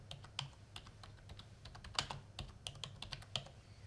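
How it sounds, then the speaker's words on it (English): Typing on a computer keyboard, quiet close key clicks in an irregular patter, no voices. "I can type in a header such as security issues."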